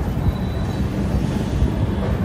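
The Swarna Jayanti Express rolls into Rajahmundry, heard from on board as a steady, low rumbling roar of wheels and carriage over the rails, with no voices.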